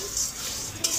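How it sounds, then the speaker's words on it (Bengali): Flattened rice, puffed rice and peanuts fry together in a pan, a close, even sizzle with brief stirring scrapes and one sharp clink near the end. "চিড়া, মুড়ি, বাদাম সব কিছু দিয়ে ভাজা"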